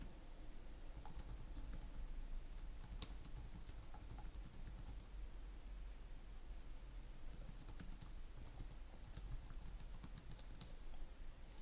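Steady typing on a computer keyboard, rapid clicking keystrokes arriving in bursts with short pauses, close and fairly quiet over a low background hum.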